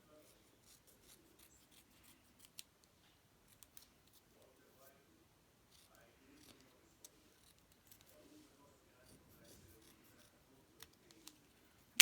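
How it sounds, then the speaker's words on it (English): Quiet, sparse snips and crisp cutting clicks spaced irregularly, small scissors trimming excess from cardboard, with faint low murmuring underneath. "And then I'll get my little scissors and trim off my excess very carefully."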